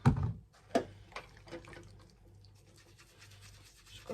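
A makeup brush is scrubbed with shampoo and water, giving soft wet bristly rubbing and brief splashy strokes, quiet and close, with short pauses between the bursts.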